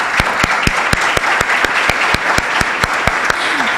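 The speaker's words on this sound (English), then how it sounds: "Can we please have a round of applause?" An audience at an invention event gives a judge a round of applause: loud, continuous clapping throughout, with a few sharp, regularly spaced claps standing out near the microphone.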